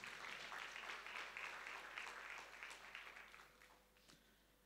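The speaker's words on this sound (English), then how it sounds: "Clap your hands and give him praise." A church congregation claps along during a worship service, a faint, uneven patter of many hands that tapers off toward the end.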